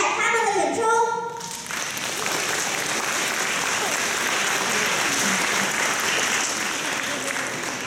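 A school audience at an elementary school graduation concert bursts into loud, sustained applause to welcome student performers. A voice speaks briefly at the start, then dense clapping fills the rest and stays steady to the end.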